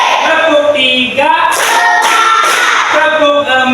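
A class of schoolchildren claps along in a counted clapping routine before morning prayer, with several sharp broadband bursts standing out amid children's chanting voices in a classroom.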